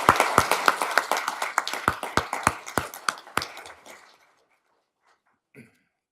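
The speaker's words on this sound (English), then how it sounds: "Let's give John another round of applause" A small group claps at a city council work session, about a dozen sharp, close hand claps that thin out and stop after four seconds, followed by silence and one faint sound.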